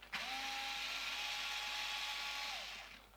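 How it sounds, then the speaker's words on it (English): A power screwdriver runs a single steady whir for about three seconds while undoing screws on a gel blaster's top rail, close and fairly quiet, winding down at the end. "for the sake of a few screws, just going to take that rail off"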